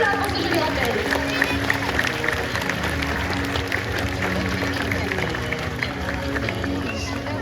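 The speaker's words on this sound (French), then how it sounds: "on peut encore remercier et applaudir bien fort Kéo et Gwenola pour ce joli rappel" Zoo audience at a sea lion show in France clapping, a dense, continuous wash of applause at steady loudness, with crowd voices mixed in.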